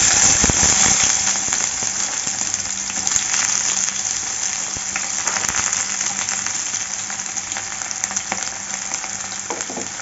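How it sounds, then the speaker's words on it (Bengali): Chopped onion hits hot oil already crackling with white cumin seeds and a bay leaf for a mushroom curry, giving a loud, steady sizzle with sharp pops and spits throughout. "পেঁয়াজ কুচি দিয়ে দিচ্ছি।"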